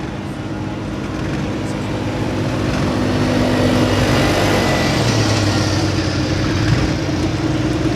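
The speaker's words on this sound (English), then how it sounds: "County, Ohio, driven by young Colt Andreas, the 2016 USA East Regional Champion Tractor." An International Harvester pulling tractor named High Gear, the 2016 USA East Regional Champion, roars at a farm tractor pull, its engine building from a rumbling idle into a loud, sustained heavy drone.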